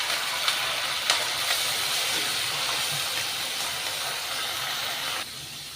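Water poured into a hot pan of ground coriander, cumin and Kashmiri chilli powder while cooking snake gourd, giving a loud, steady steamy hiss that runs for about five seconds and then cuts off.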